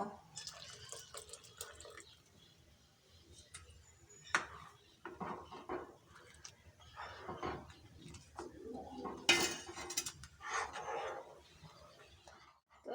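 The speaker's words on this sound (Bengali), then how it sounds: "দুধটা ভালো করে গুলে নিয়েছি এবার ঢেলে দিয়ে মিশিয়ে নেব" Milk being poured into a pan of chusi pitha payesh and mixed with a spoon, giving intermittent close clinks, drips and liquid stirring sounds, fairly quiet and without talk.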